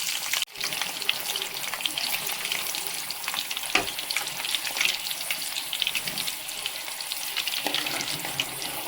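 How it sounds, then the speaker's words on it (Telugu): Green chilies and tempering spices sizzle steadily in hot oil, a dense continuous crackle close by with scattered pops and a brief clatter near the start, no voices. "నూనెలో తిరగమాతలు వేసాం. తర్వాత పచ్చిమిరకాయలు ఒక 5 తీసుకొని వేసాం"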